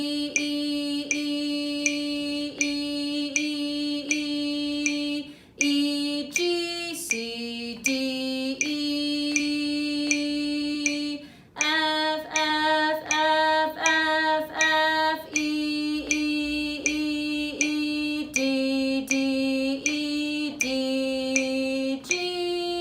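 Solo trumpet playing the first line of Jingle Bells, clear tongued notes in a steady repeated rhythm with brief pauses between phrases, close and loud, with no voice over it.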